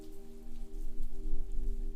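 Steady rain falls on a riverbank outside a village in old Japan, a soft continuous patter with a low rumble, alone and without voices, alongside a faint sustained tonal hum.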